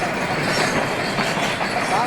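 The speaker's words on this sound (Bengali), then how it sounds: "মেলা বড় ট্রেনটা" A long passenger train rolls past close by, its wheels making a loud, continuous rumble and rattle that lasts throughout without a break.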